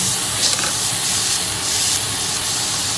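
Japanese mushrooms sizzle loudly on a grill after being flipped, a steady bright hiss with faint pops and spatters running throughout.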